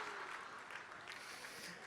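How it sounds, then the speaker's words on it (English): Faint, steady applause from a stand-up comedy audience at a literature festival show in Bengaluru, a continuous soft wash of clapping lasting under two seconds. "can you give yourselves a round of applause for getting that joke?"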